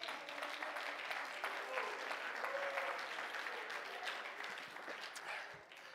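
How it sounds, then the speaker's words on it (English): A church congregation claps hands in praise steadily and loudly throughout, a dense wash of applause with voices mixed in. "Let's clap our hands and praise him"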